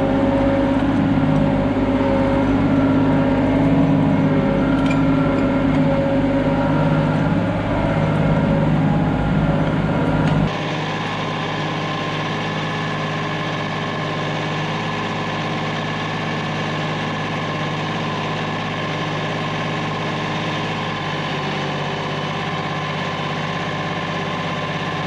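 A 2023 Kioti NX5510 tractor pushing driveway dirt toward the middle with an old angled, tilted back blade: a steady close diesel drone with deep low rumble that drops to a quieter, smoother idle-like hum partway through.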